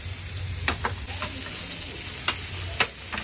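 Prawns fry in a pan over a medium flame, giving a loud, continuous close-up sizzle with a few sharp clicks and scrapes from stirring, and no voices.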